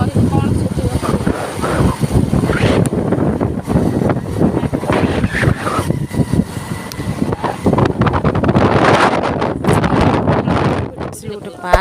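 Strong wind roars through a forest and buffets the microphone in loud, continuous gusts, with voices heard beneath it.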